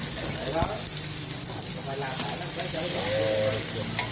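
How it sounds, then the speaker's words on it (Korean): Rice-and-egg batter with bean sprouts fries in a hot pan with a steady, close sizzle, and occasional scraping and stirring come through under it. "그리고 이렇게 야채 숙주하고 넣고 이렇게 이제 구워내는 겁니다"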